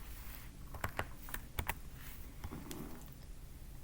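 Close, quiet typing on a computer keyboard, an irregular patter of sharp key clicks with a few quick bursts and short pauses, no voices.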